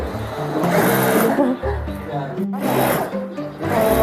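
A sewing machine stitches jersey fabric in a sportswear factory with a fast, rhythmic mechanical whir that pauses briefly between runs, loud and close, under a continuous buzz of talk nearby.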